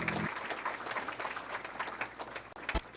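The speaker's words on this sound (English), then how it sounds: "Round of applause." Crowd applauding at an esports awards evening, sustained clapping at moderate level, with a sharp knock near the end.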